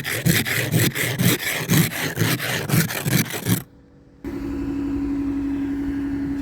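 Hardened ice being scraped off a car windshield on the first day of snowfall in Calgary: quick, rhythmic rasping strokes, loud and close, that stop abruptly. A brief silence follows, then a steady low hum.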